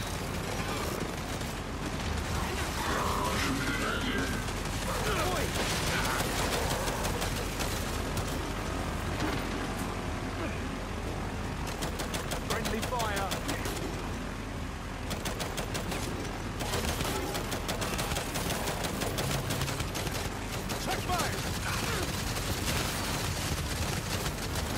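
Rapid bursts of gunfire rattle almost nonstop during a firefight on a tarmac in the video game Gears 5, dense clattering shots with a faint voice underneath.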